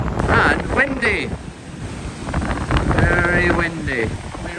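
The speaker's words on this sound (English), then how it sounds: "Very windy." Strong wind buffets the microphone on a sunny beach, a steady loud rumble with gusts, while people talk over it and surf washes faintly behind.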